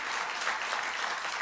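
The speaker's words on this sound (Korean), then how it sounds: "먼저 박수로 한번 좀 격려해 주시기" A dense, steady wash of applause from a church congregation at an evening service, many hands clapping together at constant loudness.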